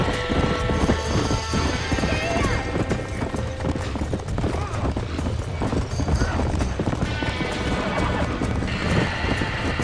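Panicked horses neigh and hooves clatter in a burning barn in the Red Dead Redemption video game, a dense, loud jumble of whinnies, thudding clip-clop and crackling chaos with shouting voices mixed in.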